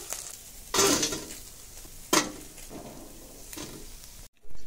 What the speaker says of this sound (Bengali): ট্যাংরা মাছগুলো বেশ লাল লাল করে ভেজে নিয়েছি।